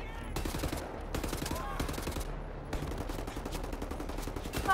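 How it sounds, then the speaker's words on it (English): Sustained gunfire from Wolfenstein: The New Order, dense overlapping shots and bursts running throughout at steady loudness, mixed with game effects and occasional voices. "Fucking stop firing at me."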